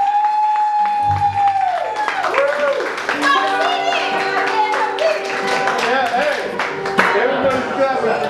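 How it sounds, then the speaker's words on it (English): An audience at a live country gospel show claps steadily in scattered, dense applause as the last music note dies away, with someone talking over it. "everybody's clapping for you"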